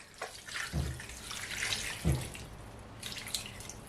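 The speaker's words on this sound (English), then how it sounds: "Add some water." Water is poured into a cooking pot of banga soup at home, making a soft splashing, running-tap-like flow with a few brief louder gushes, close and moderately quiet.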